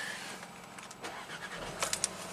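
A Volkswagen GDI car with a manual gearbox and a high-pressure fuel pump circuit fault cranks and fires up, a short starter whir followed by the engine catching, heard fairly quietly and close.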